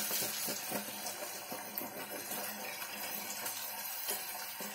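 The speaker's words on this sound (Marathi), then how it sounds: "आता पाण्याचा शिपका मारल्यामुळे याच्यामध्ये अजिबात खाली चिटकणार तर नाहीच।" Masala for chhole fries in oil in a pan just after a splash of water, giving a steady close hiss and crackle with scattered pops throughout.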